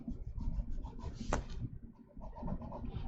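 Pencil drawing on paper for an architectural interior sketch, soft continuous scratching and rubbing strokes with one sharper quick stroke, close and quiet.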